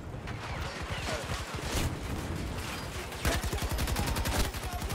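Rapid, sustained bursts of PKP machine gun fire in Battlefield 2042, loud and close, with shots stacking into dense rattling volleys that intensify toward the end amid other battlefield gunfire.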